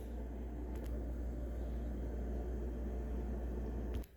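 A microwave oven hums steadily for several seconds while heating a tomato taco topped with American and white cheese, then cuts off abruptly at the end.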